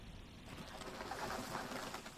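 Birds cooing in the video game A Quiet Place: The Road Ahead, soft pigeon-like coos over a faint airy ambient wash, quiet and somewhat distant, with no talking.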